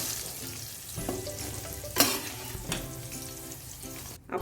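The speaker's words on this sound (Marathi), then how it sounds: "बटाटे झाले छान तळून बघा काढून घेऊ आपण" Potatoes fry in hot oil in a pan with a steady, close sizzle and a few scraping stirs, without any talking.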